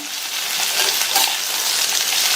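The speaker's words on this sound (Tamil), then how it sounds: "அவரைக்காய் சேர்த்துட்டு ஹை ஃப்ளேம்லேயே வச்சு ஒரு 2 நிமிஷத்துக்கு நல்லா வதக்கி விட்டுக்கங்க" Broad beans (avarakkai) sizzle loudly on high flame in a hot pan, a dense, steady frying hiss with faint stirring scrapes, close and continuous.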